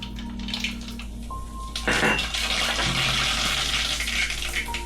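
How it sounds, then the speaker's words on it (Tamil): Mustard seeds sputter and crackle in hot oil while being tempered for a South Indian country-chicken dish, giving a steady hissing fizz that swells into a louder burst of popping partway through. "ஓகே, இப்போ கடுகு தாளிச்சிடலாம்."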